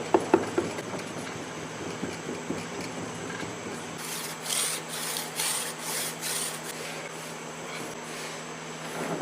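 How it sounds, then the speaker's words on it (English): Foundry sand is rammed into the drag side of a casting flask for an iron griddle. Steady, gritty scraping and packing sounds are close, with rhythmic pulses and a few sharper knocks at the start. "this is the drag side that I'm ramming up"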